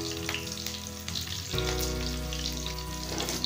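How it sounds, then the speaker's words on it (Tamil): Green chillies and curry leaves hit hot oil while brinjal chops are cooked, giving a loud, steady close-up sizzle and crackle that jumps louder midway and keeps frying with no voices. "எண்ணெய் காஞ்சிருச்சு, அது கூட நம்ம பச்சை மிளகாய், கருவேப்பிலை போட்டுக்கலாம்."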